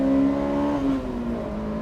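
A Honda S2000 engine holds a smooth, rising whine as it revs toward 7,000 RPM, then eases off slightly with a steady hum under a faint rumble, no voices present.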